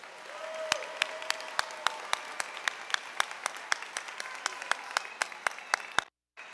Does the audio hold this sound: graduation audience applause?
yes